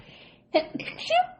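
A short, high, squeaky sneeze-like burst in two quick parts, fairly close and faint overall.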